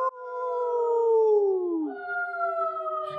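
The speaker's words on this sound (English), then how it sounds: "all I can hear are the winds howling" A long, wavering howl on a night mountainside, steady and loud, sliding slowly downward before settling into a second sustained tone, heard alone without speech.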